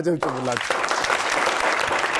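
A brief spoken phrase gives way to dense, sustained applause from a game show's studio audience, steady and fairly loud through to the end.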